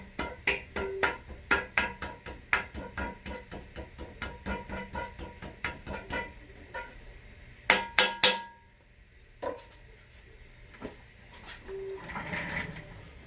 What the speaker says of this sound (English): So the tap set I'm using is an Irwin 3-piece tap.